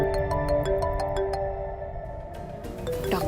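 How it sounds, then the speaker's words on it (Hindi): A phone ringtone for an incoming call from a doctor plays as a repeating melodic electronic jingle, moderately quiet over a steady background, fading near the end as a brief rising sound appears. "डॉक्टर का फोन।"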